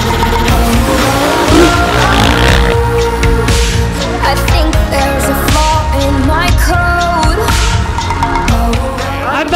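A KTM motorcycle engine roars loud and close, a continuous raw snarl with shifting pitch and sharp squealing edges that runs without a break.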